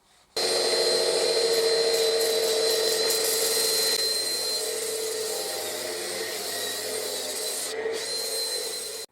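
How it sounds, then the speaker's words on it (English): Homemade power sander finishing an English walnut bowl, a steady close whirring hum with abrasive rubbing that starts abruptly and runs continuously, with a brief dip near the end. "Use my homemade power sander just to finish this off and then to get that little tenon off."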